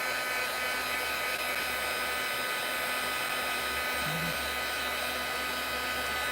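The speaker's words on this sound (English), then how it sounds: "I'm going to pull in my heat tool and I'm going to dry it." A heat tool blows steadily and continuously up close, drying craft paint with a loud, even whooshing hiss that holds unchanged throughout.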